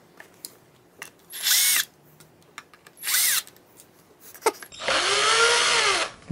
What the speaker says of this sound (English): I feel a little bit guilty about using this electric drill.